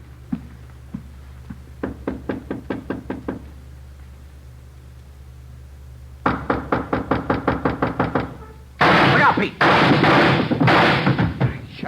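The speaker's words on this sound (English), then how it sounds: "Shot right through the door." Gunshot fired through a door during a police raid in an old radio crime drama: sharp knocking bursts come first, then louder rapid impacts and a heavy burst of noise near the end, close and loud.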